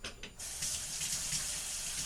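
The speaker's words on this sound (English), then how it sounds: "and I got to wash my hand." Tap water runs into a kitchen sink for hand washing, starting after a couple of brief knocks and then a steady, close, full rush that carries on to the end.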